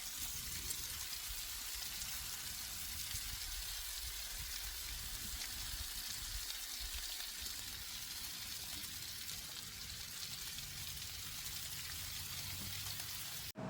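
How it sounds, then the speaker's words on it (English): Onions, small turnips and shishito peppers cooking on a Blackstone griddle, a steady, even sizzle and hiss that continues without a break, with faint low rumbles underneath. "So I'm gonna cook some of these onions, a few of these little turnips I pulled to make room for other turnips to grow"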